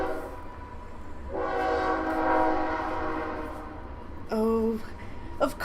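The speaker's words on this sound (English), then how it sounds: "right when I start streaming there's a train going by" A train rolls past with a low rumble and a long blast of its horn, followed by a shorter horn call near the end, fairly close and with no one speaking.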